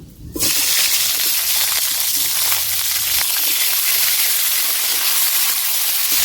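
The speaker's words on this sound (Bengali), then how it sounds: "ওই তেল গরম হয়ে ডাঁটা দিয়ে দিচ্ছি" Drumstick stems dropped into hot oil in a wok, bursting into a loud, continuous sizzle and hiss that holds steady right up close, with no talking.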